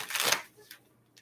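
Tarot cards are shuffled in a brief riffling burst, followed by a couple of faint soft card taps, close and quiet.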